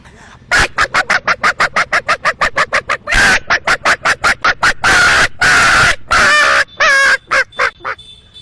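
A voice imitates a hen squawking in fear at the sight of a cat. Loud, rapid honking squawks come in quick bursts, some drawn out, with short gaps between them.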